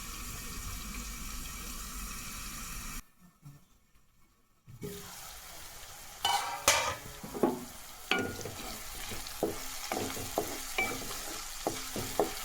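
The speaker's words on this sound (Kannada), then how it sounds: "ಒಂದ್ಸಲ ಮಿಕ್ಸ್ ಮಾಡಿ ಲಿಡ್ ಕ್ಲೋಸ್ ಮಾಡಿ 1-2 ನಿಮಿಷ ಮೀಡಿಯಮ್ ಫ್ಲೇಮಲ್ಲಿ ಬೇಯಿಸ್ಕೊಳ್ಬೇಕು ಇದನ್ನು." Dal in a pan on a medium flame with its lid being closed: a steady sizzle and bubbling hiss, a short quiet break, then a run of clinks and scrapes from stirring, close and moderately loud.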